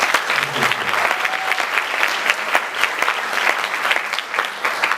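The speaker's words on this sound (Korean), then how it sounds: "우리 박수로 한번." A church congregation applauds a musical actress, dense sustained clapping from many hands at close range throughout, with a brief murmur of voices underneath.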